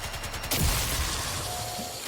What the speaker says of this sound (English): That's a turret.